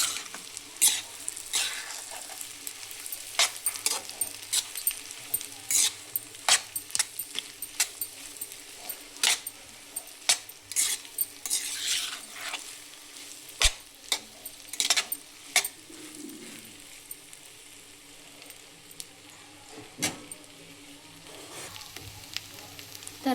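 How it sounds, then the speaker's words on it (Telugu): Grated boiled potatoes frying in a pan, a continuous sizzle broken by frequent sharp scrapes and taps of a spoon stirring, close and fairly loud with no talking. "బాయిల్ చేసుకున్న పొటాటోస్ని ఇలా సన్నగా తురిమి ఇందులో వేసుకొని ఫ్రై చేసుకోవాలి."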